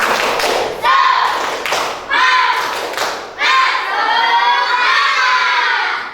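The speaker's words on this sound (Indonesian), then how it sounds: "Coba kita kasih tepuk semangat dulu." A classroom group of children in an Indonesian primary teacher-training Pancasila lesson does a rhythmic spirit clap, with loud chanted voices in repeated bursts over thudding claps and a short pause between each round.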